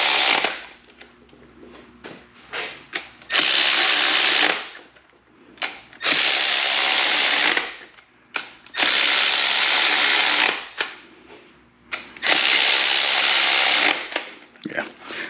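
A power ratchet tightening bolts on a RedFox engine during its build, running in four sustained whirring bursts of a couple of seconds each, separated by quiet gaps with light clicks and handling noises.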